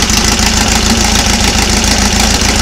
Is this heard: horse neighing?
no